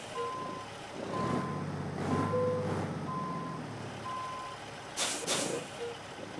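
A heavy truck in American Truck Simulator reverses, its backup alarm beeping in a steady, evenly spaced series over a low engine rumble, with a sharp burst of air-brake hiss near the end.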